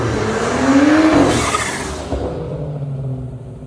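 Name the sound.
2015 BMW F10 535i Stage 2 E85 car engine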